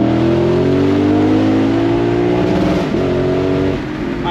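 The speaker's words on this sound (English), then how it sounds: "I had to give it a little limiter bounce there, because when it bounces off the limiter, it sounds fantastic." A car fitted with an RR Racing Bazooka Valvetronic exhaust in open mode, held in second gear and bouncing off the rev limiter, gives a loud, steady droning roar with a stuttering dip near the end.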